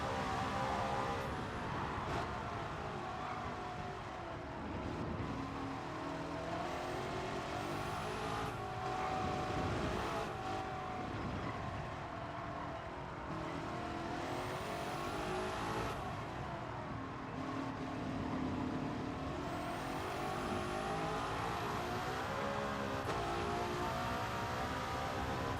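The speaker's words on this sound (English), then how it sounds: "This car is much louder than it used to be." A loud, continuous 1955 Mercedes F1 racing engine in a video game roars and whines, pitch rising and falling as it revs and shifts, with sharp tire-like squeals on top.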